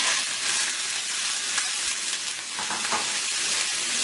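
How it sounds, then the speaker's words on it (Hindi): Keema (minced meat) frying in about a tablespoon of hot oil in a pan, a steady dense sizzle with crackling throughout, loud and close with no voices. "पैन में तकरीबन 1 टेबलस्पून ऑयल ले लिया है मैंने। अब इसके अंदर सबसे पहले मैं कीमा शामिल कर दूंगी"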